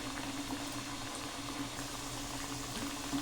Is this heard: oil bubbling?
yes